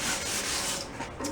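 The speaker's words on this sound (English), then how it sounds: "Got a piece of 320. Maybe we'll just give that a shot dry." Dry 320-grit sandpaper rubs over rusty metal on a Cushman paddy wagon, making a continuous close, even rasping scrape.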